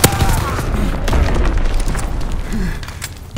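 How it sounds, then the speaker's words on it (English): Enemy mortar rounds explode in a video game battle, with heavy booms and dense rumbling blasts layered with gunfire, loud and continuous throughout. "Enemy mortar fire incoming!"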